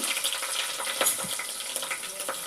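Garlic paste fries in a pan with mint, pepper and cloves, making a brief, steady hiss and crackle with a couple of soft stirring knocks.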